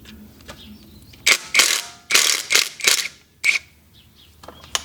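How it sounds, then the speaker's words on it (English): Ratchet wrench loosening the oil pickup tube bolts on a Chevy 5.3 V8 engine during a teardown; crisp, close clicking in several short bursts separated by pauses, with no voices. "right here, we're gonna take off our oil pickup tube"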